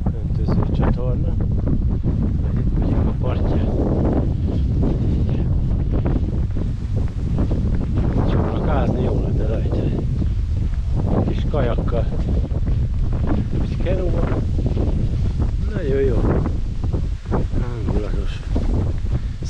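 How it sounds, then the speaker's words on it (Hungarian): Strong wind buffets the microphone beside an irrigation canal on a countryside hiking trail, a continuous low roaring rumble that persists throughout while people talk over it. "Szél fúj ez erre"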